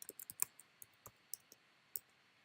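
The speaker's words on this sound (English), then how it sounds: "Let me type the same string." Keys on a computer keyboard tap out a string of code in an irregular burst of crisp clicks, quick clusters then sparser strokes, close and faint against a quiet room.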